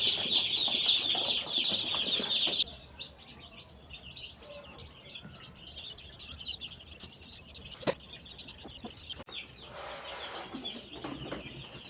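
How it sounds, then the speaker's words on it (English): Day-old chicks under heating bulbs on a poultry farm chirp continuously in a dense, high-pitched chorus, loud and close at first, then softer and more scattered, with a few sharp knocks. "These are heating bulbs. They produce heat. You know, these are day-old chicks."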